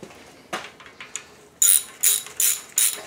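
Hand tool tightening bolts on a 4.8 engine during a rebuild, heard as a few faint clicks followed by four short, loud ratcheting bursts in steady rhythm, close by with no talk.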